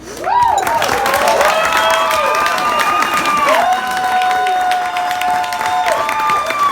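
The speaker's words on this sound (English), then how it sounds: "Keep that round of applause going for the beautiful maid of honor." Wedding guests at a reception applaud and cheer for the maid of honor after her speech, with loud, sustained clapping and crowd noise lasting several seconds, joined by whoops and a sung or whistled tone.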